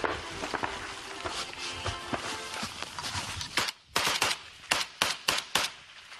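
Return gunfire sounds in a war zone in Donbas, with a dense spell of distant shots followed by five or six loud, sharp, close reports spaced about half a second apart.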